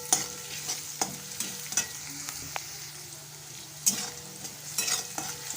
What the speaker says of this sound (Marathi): चांगला परतून घ्यायचा आहे कांदा.